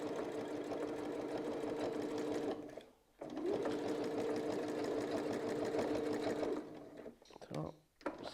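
A quilting sewing machine runs steadily, stitching a rotating quilting pattern with a template guide, its motor whirring continuously with two short pauses when it stops, up close and loud.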